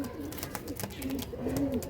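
Caged Malbai pigeons coo close by in soft, low, rolling calls. Several cooing phrases repeat over about two seconds, with no voices.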